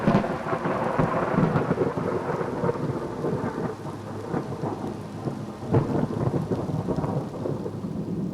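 A thunderstorm rumbles with rolling thunder over steady, heavy rain, the low booms swelling and fading while rain hisses continuously throughout.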